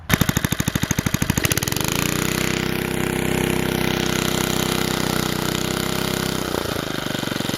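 A push lawn mower engine, just after carburetor cleaning, starts with rapid popping bursts, then settles into a steady, loud, close idle hum with a brief surge near the end.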